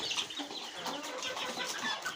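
Roosters, five or six of them, cluck and call from a cage set beside quails, a continuous close flurry of fowl sounds.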